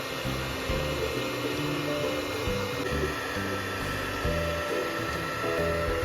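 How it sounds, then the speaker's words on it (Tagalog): An electric hair dryer runs steadily with a constant whirring hum and airy rush, close and moderately loud, with no pauses. "Ay, ibo-blower pala."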